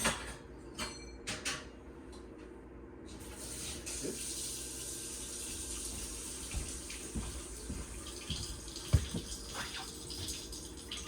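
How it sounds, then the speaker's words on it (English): A hot water tap runs in a 2024 Cruiser RV Essence E-25RK fifth-wheel trailer, a soft steady trickle and splash into a sink, fairly quiet, with a few faint clicks and knocks. "I'll turn your hot water on for you real quick"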